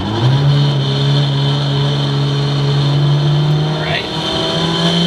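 A 900 hp Mitsubishi Evo running on E85 accelerates hard, its engine holding a loud, steady drone that climbs in pitch before a brief shift near the end, with a voice speaking briefly over it.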